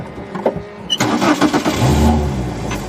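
A race car's engine fires up during a pit stop at Sonoma Raceway in a racing series event, a short crank followed by a sustained, fairly loud engine roar after a quiet moment of shuffling.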